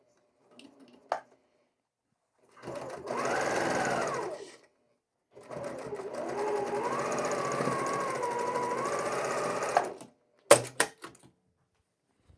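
A sewing machine stitches quilt columns together in two close, steady runs of fast mechanical whirring, the first about two seconds long and the second about four, with a few sharp clicks after it stops.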